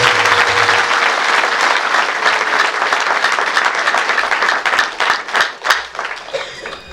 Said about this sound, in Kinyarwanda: tumuhe amashyi ajyanye